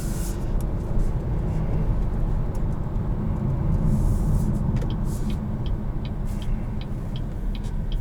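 A 2021 Chevrolet Trailblazer with a 1.3-litre turbocharged three-cylinder engine is driven in sport mode, giving a steady low engine and road rumble from inside the cabin, with light ticks and rattles over it and no talking.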